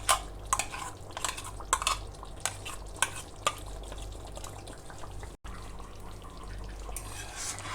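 A spoon stirs a cashew and coconut paste into chicken cooking in a pan for biriyani, making a soft steady sizzle with repeated scraping clinks against the metal, close and continuous.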